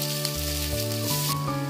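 Chive-and-flour pancake frying in a covered pan, its second side setting, gives a steady, even sizzle with soft tonal music running underneath throughout.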